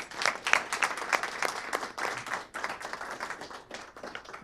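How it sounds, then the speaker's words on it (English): Applause at a city council meeting honoring an employee of the quarter: a modest room of people clapping, with distinct individual claps at first that blend into a steady patter and then ease off slightly. "So please join me in a round of applause."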